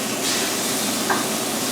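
Vegetables and tomato slices fry in a pan for an English fry-up, giving a steady close sizzle and hiss with no talking.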